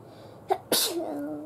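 A single close, sharp sneeze with a brief intake of breath just before it, followed by quiet room tone.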